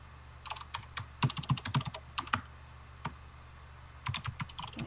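Typing on a computer keyboard, a quick irregular run of close key clicks in two bursts with a pause between, over a low steady hum with no talking.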